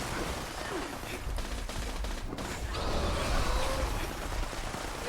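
Steady, dense gunfire and combat noise from the game Fallout 76, a continuous rattle of shots with no clear pauses.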